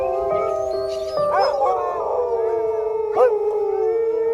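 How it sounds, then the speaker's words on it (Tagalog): Several village dogs howl together, long rising and falling wails that overlap and swell, joined by a few short yips, loud and near with no talking. "Parang nagkaisa ang lahat ng aso sa baryo sa pag-alulong."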